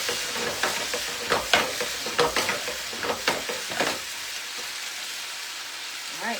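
Potatoes frying in a pan, crackling and sizzling steadily while being tossed, with a series of sharp clattering bursts from the stirring followed by quieter sizzle.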